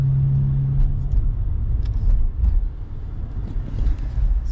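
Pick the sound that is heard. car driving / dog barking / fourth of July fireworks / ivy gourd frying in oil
car driving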